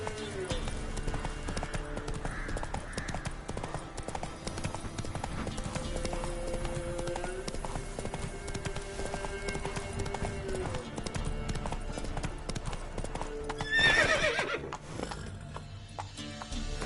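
A ridden horse clip-clops steadily along, its hoofbeats close and continuous, while a rider urges it on and a brief whinny-like burst rises near the end.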